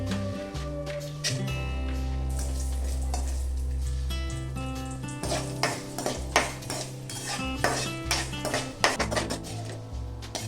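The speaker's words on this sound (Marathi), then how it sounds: "बदाम आणि एक ते दोन मिनिट मनुके तुपामध्ये परतून घ्यायचे" Almonds and raisins fry in ghee in a pan for a laddu, giving a steady sizzle with clinks of utensils and stirring, loud and continuous with no talking.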